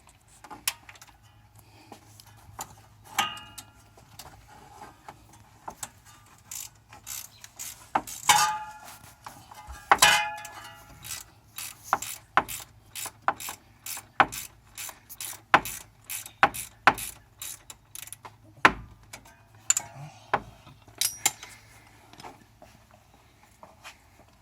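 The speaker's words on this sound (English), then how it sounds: "Now to help ease the bolt out" Ratchet working a thermostat housing bolt loose on a 2000 Jeep Wrangler Sahara, close clicking swings in short bursts that settle into a regular run of quick ratcheting strokes, with metallic knocks and no speech.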